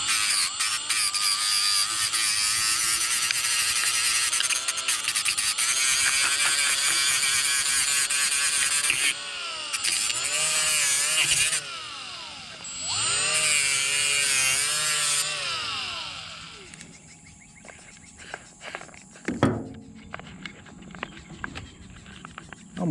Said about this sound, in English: I'm just going to take and sand the edges down on this just a little bit.